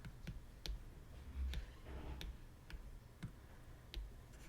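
Fingertip taps on a tablet's on-screen keyboard while naming a brush in a drawing app, about a dozen light, sharp clicks at an irregular typing pace, close and fairly quiet.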